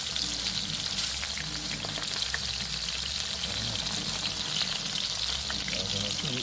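A test piece of banana or sardine drops into hot oil at an outdoor construction-site cookout and fries with a dense, continuous, crackling sizzle, close and loud, alongside a low rumbling background.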